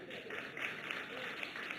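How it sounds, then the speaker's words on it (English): A crowd at a conference claps steadily at a distance, a soft continuous wash of applause with no voices standing out. "Clap for me if you're single."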